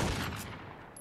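Rapid video game gunfire from a competitive shooter match, a dense burst of shots filling the short moment at close range and fairly loud, with no talking over it.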